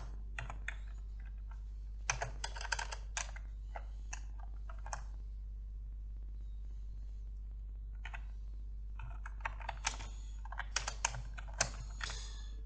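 Typing on a computer keyboard while entering a project name in Visual Studio, with clustered bursts of quick, close keystrokes separated by pauses over a steady low hum.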